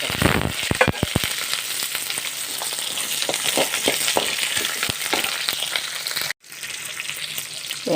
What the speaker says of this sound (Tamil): இதை போட்டு நல்லா வதக்கிக்கலாம்.